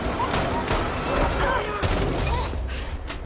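Gunfire in a Walking Dead season 11 episode: dense, loud shots and blasts fill the whole stretch, layered with shouting voices and a dramatic soundtrack.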